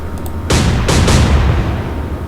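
Warship guns firing in the Atlantic Fleet naval combat game, three heavy booming blasts in quick succession over a low rumble, loud and close.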